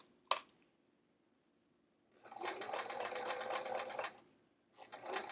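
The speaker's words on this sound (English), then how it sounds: "back to the top stitching on the other side" A sewing machine top stitches a handle onto a travel art folio: a single sharp click, a pause, then a steady whirring run of stitching for a couple of seconds, and a second short burst starting near the end.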